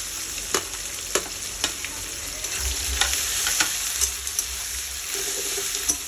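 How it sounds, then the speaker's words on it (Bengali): About three chopped onions fry in hot oil, a steady close sizzle broken by sharp, regular clicks and scrapes of a spatula against the pan, with no voices. "তো এখন তেলে পেঁয়াজগুলো দিয়ে দেবো।"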